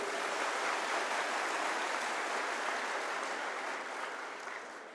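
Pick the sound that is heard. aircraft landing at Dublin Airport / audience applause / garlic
audience applause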